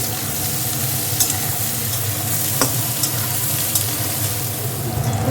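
Steady, close sizzling of tomatoes, green chillies and aubergine frying in a pan, with faint clinks of stirring now and then.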